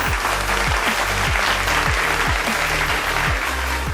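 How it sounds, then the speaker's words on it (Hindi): Studio audience applause at an award segment of a Hindi TV comedy show, steady dense clapping with a repeating rhythmic music beat underneath, loud and continuous throughout. "तालियां बजती रहनी चाहिए"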